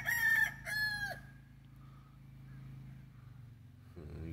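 A rooster crows loudly up close, followed by quieter background noise and a faint low rumble.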